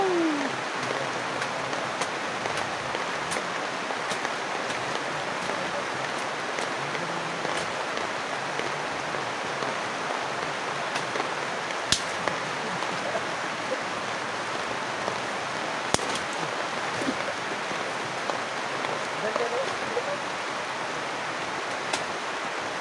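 Steady rain pouring down, a dense continuous hiss of drops on surfaces with occasional louder individual splats, unbroken for the whole stretch.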